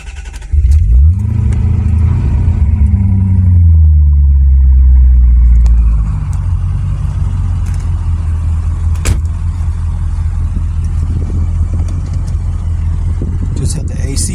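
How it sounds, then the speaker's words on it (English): A 1992 Chevrolet Corvette ZR-1, polo green metallic with 40k miles, cranks and fires into a loud rising start-up flare, then settles into a steady, close, rumbling idle that continues alone to the end. "I always like to hear both fuel pumps come on before I start."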